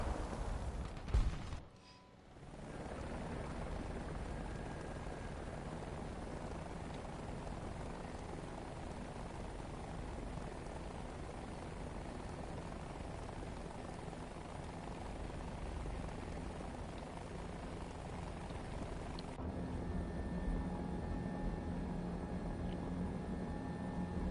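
Helicopters in the War Thunder video game make a steady, dense rotor and engine roar that holds for over twenty seconds after a brief dip near the start, with a faint tonal whine joining toward the end.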